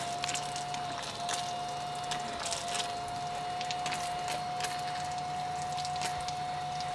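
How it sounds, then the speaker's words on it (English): A small 12-volt pump on a portable camping shower runs steadily, giving a continuous motor whine with some watery hiss and light handling noises close by. "I just plug it into 12 volt. You can hear the little thing run. It's going to fill the hose up."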